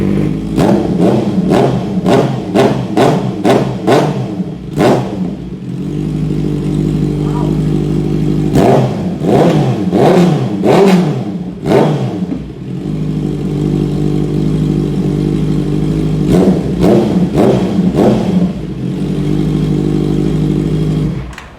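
A car exhaust with the catalytic converter deleted revs repeatedly, close and loud, in rapid bursts of sharp throttle blips separated by a steady rumbling idle.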